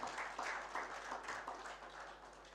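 An audience at a public sector governance launch event gives soft, steady applause that fades slightly toward the end, heard at a distance and fairly quiet.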